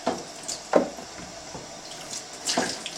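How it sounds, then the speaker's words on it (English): Water from a hose splashes in short, uneven bursts as a squeegee is rinsed off in a darkroom sink, with intermittent spattering and dripping rather than a steady flow. "grab this hose and rinse this off, just in case somebody forgot"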